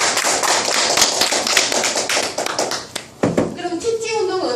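Lecture audience applauding at a Korean health exercise talk: dense, loud sustained clapping from many hands, tapering briefly then resuming with a few scattered claps, a voice heard as it fades.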